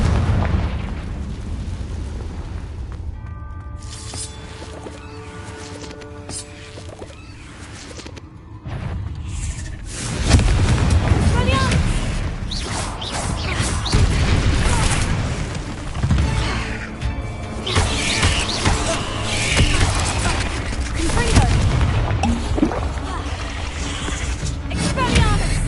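Confringo blasting spells explode inside a cave in the Hogwarts Legacy video game. Several loud, booming bursts follow one another over a steady rumbling game backdrop.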